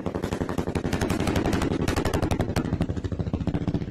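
Fireworks in a dense barrage, loud rapid crackling bursts firing one after another through the whole stretch like a nonstop volley, close and overwhelming.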